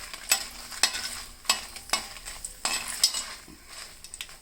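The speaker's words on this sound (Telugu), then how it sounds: "ఎండుమిరకాయలు ఎర్రగా వేపుకున్నాక తీసేసి కొత్తిమీర వేపుకోవాలి" Coriander leaves frying in a pan for pickle, with sharp repeated spatula clinks on the pan every half second or so over a light sizzle, close and clear.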